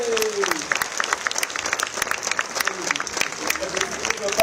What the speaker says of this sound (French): je vous prie de bien vouloir accueillir avec vos applaudissements